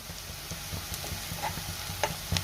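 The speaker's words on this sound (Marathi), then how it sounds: "आता आपल्याला त्यामध्ये आलं लसणाची पेस्ट घालायची आहे आणि पुन्हा 1 मिनिटभर मी परतून घेणार आहे" Onion and ginger-garlic paste sauté in a pan for bhurji, with a steady sizzle under repeated scraping strokes of a spatula and a few sharper clinks against the pan.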